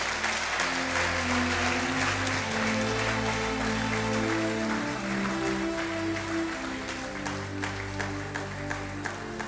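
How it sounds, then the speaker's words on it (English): A church congregation claps steadily through a sermon, dense continuous applause under sustained organ or keyboard tones, with no talking over it. "Clap for them as they go back."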